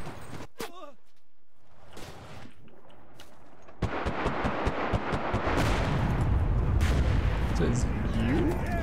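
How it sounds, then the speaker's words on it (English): A grenade blast in the shooter game Enlisted erupts partway through, a heavy broadband boom that gives way to a dense stretch of rattling gunfire and artillery-like bangs, with a voice talking over the battle. "I got a good grenade on these guys."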